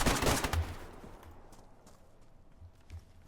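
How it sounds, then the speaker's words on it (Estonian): Video game gunfire during a raid in Nagornoye, a loud burst of rapid shots at the start that trails into quieter scattered thuds and a few distant pops, with no voices. "Lase maha, sinu ees on Elar"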